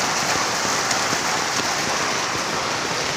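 Strong floodwater surges over a creek beside a road in Echaves, Barangay Lorega, Cebu City, making a loud, steady rushing roar that continues unbroken with no voices.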